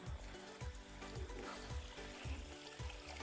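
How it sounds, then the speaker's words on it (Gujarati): Garlic, coriander, ginger and other vegetables get washed by hand in water at an outdoor farm spot in rainy weather: quiet, rhythmic sloshing swishes repeating about twice a second, with no voices. "જો બધું શાકભાજી ધોવાય છે એમાં અત્યારે"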